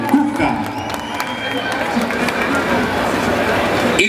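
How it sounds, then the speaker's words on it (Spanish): Concert audience at an annual town fiesta in San Francisco Chimalpa applauding and cheering for a band, a dense, loud, continuous wash of clapping, whistles and shouts with crowd chatter throughout. "Y los aplausos de este público distinguido y alegre, ¿dónde están?"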